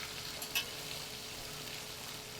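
A trout fillet frying in a pan gives a faint, steady sizzling hiss with one brief crackle near the start.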